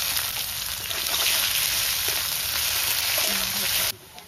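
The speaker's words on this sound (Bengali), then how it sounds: "তেলে দিয়ে দেবো তেজপাতা, দেব শুকনো লঙ্কা, গোটা গরম মশলা, কুচিয়ে রাখা পেঁয়াজ," Bay leaf, dried chilli, whole garam masala and chopped onion frying in hot oil, a steady dense sizzle running loud and close throughout before cutting off abruptly near the end.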